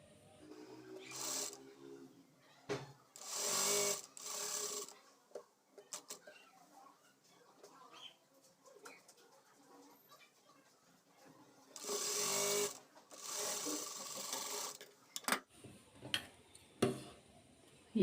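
Sewing machine stitching the neck of a top, heard as several short bursts of rapid mechanical whirring, close and quiet, with gaps between them.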